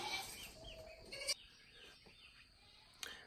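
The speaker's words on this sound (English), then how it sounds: "let me take care of the chickens that are in the chicken tractor now" Chickens in a chicken tractor give faint, scattered clucks and short calls, quiet and a little distant, with brief bumps and rustles between them.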